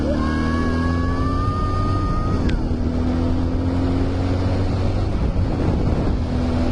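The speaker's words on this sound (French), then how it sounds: "déjà c'est impressionnant la vitesse où il va ce quad. il va franchement vite." A Barossa SMC 250 quad bike speeds past outdoors, its steady engine drone loud and continuous under heavy wind buffeting on the microphone, with a brief whining pitch shift partway through.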